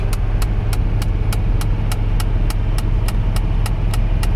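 An abandoned Mercedes 300CD diesel is driven at full throttle, its engine droning loud and steady with a sharp regular ticking pulse repeating about three times a second over a heavy low rumble.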